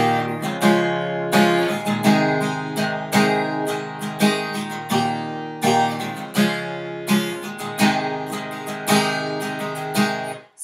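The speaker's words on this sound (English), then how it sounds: "so you strum like." Acoustic guitar strumming a three-chord chorus, with loud, close, steady rhythmic down and up strokes that keep a driving pattern for the whole stretch and no voice.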